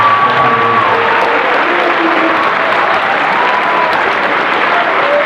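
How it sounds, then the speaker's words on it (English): A crowd gives a loud, sustained round of applause for a group of candidates, with dense clapping mixed with faint cheering and murmured voices, holding steady throughout without pause. "One more big round of applause for all these wonderful candidates."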